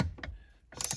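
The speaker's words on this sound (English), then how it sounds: "That big socket and ratchet was too big, so we switched down to a" A socket wrench ratchets on a seat-harness bolt under a BMW E46 M3 during a Schroth harness install: two short bursts of close, dry clicking separated by a brief pause.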